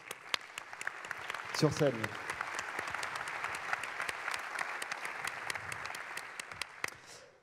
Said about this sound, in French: j'aimerais qu'on applaudisse l'ensemble des cofondateurs qu'on ne voit jamais